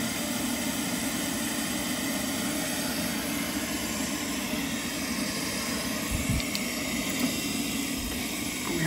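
A small Munchkin boiler fan runs with a steady, loud whooshing roar that holds throughout, with faint clicks near the end.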